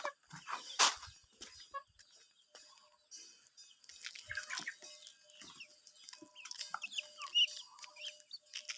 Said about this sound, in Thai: ไก่เพิ่นกินข้าวเป็ดอิ่มแบบนี้แหละไก่น้อยเนาะ